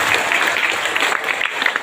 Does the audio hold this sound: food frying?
no